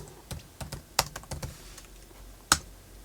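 Keys clack on a computer keyboard as a short command is typed into a Betaflight CLI: a quick burst of separate, close taps, then a pause and one sharper final keystroke, like pressing Enter, in a quiet room.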